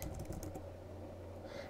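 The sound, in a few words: typing on a computer keyboard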